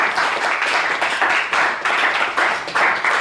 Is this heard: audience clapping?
yes